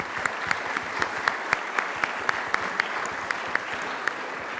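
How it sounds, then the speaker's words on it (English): Audience applause for the conference organizers at an AI and robotics event, steady clapping from a sizeable crowd with regular sharper claps standing out, moderately close and continuous throughout. "So I invite you to give them big applause."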